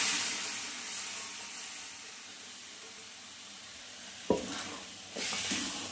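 Cooked masala for chicken chana masala poured into a hot pan: a soft, steady hiss, then a sudden burst of sizzling as it lands, followed by a louder sizzle.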